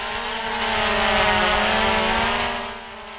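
Drone flying overhead during thermal tracking of marbled murrelets in Oregon forest, giving a steady, loud propeller whine with a low hum that swells slightly mid-way and eases off toward the end, with no talk.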